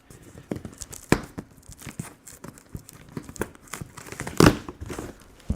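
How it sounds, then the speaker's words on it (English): Product packaging for a VEVOR electric double-frame milk tea shaker is cut open, giving scattered crinkles and scrapes followed by a sharp, loud tearing rip near the end. "So anyway, let's open it up, see what we get. And we'll just cut open the front here."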